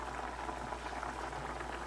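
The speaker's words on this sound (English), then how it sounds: "The pot is bubbling there." A pot of pasta boils steadily on a stovetop, with a continuous close bubbling and hissing wash and no voices.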